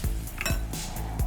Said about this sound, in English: Then you turn your chapatis.